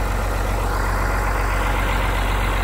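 A Cockshutt 1850 tractor with a Perkins 354 diesel engine idling nearby, a loud, steady low diesel throb with fast even pulsing and no pauses.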